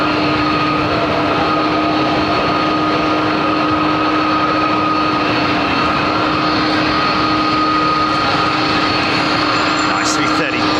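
An Air France Airbus A330-200 jet at London Heathrow Airport produces a loud, constant roaring engine noise with a steady whine throughout, close and sustained with no break.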